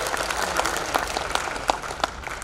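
Clapping from a seated crowd at an RCM business meeting in Bhilwara, a dense continuous round of applause with individual sharp claps standing out near the end, no speech over it.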